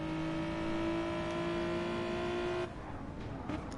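BTCC touring cars racing at Fuji in GT Sport, a steady engine drone held at constant pitch for about two and a half seconds before cutting to a quieter, rougher rumble of cars.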